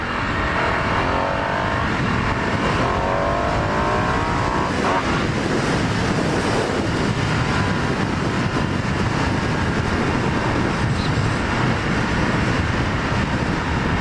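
A 2019 Ducati Diavel 1260 motorcycle on a demo ride, its engine droning loud and steady throughout with heavy wind rush, close up and continuous.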